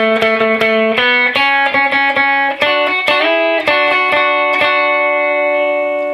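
An electric guitar plays a melody line through effects with light distortion and reverb, in bright picked notes that shift pitch in quick rhythmic runs, loud and close, with no talking.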